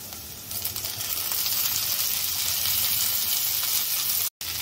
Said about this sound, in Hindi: प्याज हल्का सा फ्राई हो गया है तो इसमें मैं डाल दूंगी एक टमाटर